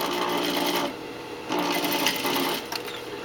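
A sewing machine stitches a half-inch seam in two close, steady whirring bursts separated by a short pause, loud and near, with no speech over it.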